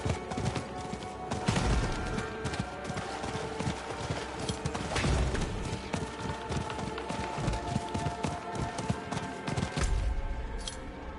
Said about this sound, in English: I literally drove all the way up here in a horse.